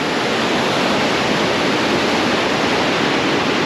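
Turbulent rapids churn below Niagara Falls in a loud, dense, unbroken roar of rushing water, heard close up from the riverside without any talk.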